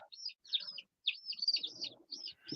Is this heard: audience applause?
no